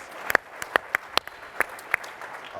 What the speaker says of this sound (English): Give Bookie a big round of applause.